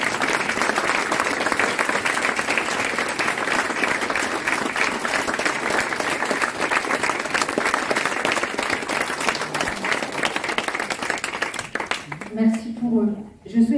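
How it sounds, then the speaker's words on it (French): Sustained applause from guests at the inauguration of a company restaurant, steady dense clapping for about twelve seconds before it fades and a voice begins speaking. "Vous pouvez les applaudir."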